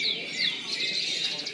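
A short burst of close, bright twittering song from a bred male canary, with high trills sliding up and down, heard alone against faint background noise.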